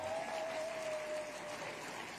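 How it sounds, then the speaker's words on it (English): An audience bursts into steady, dense applause at an awards ceremony, filling the room evenly for a couple of seconds with no pauses and no voices rising above it. "Please give her a round of applause."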